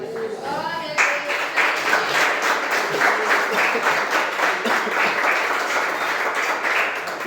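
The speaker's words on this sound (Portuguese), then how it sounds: "daquela linda salva de palmas para Jesus" A church congregation bursts into applause for Jesus, steady, dense clapping that sustains for several seconds after a brief spoken or sung lead-in at the start.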